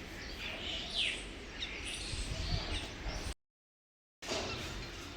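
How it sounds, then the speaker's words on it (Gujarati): Crows and mynas call faintly amid quiet outdoor ambience, with a few brief chirps and a distant caw before a short dropout of silence. "કાગડા ને કાબરો આવી"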